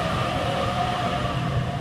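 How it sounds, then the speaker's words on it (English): A Sydney Waratah electric train pulls into platform 1 at Gordon station on a Blacktown service, giving a steady, continuous rumble and hum of the passing carriages at close range with no talk. "Waratah arriving on platform 1."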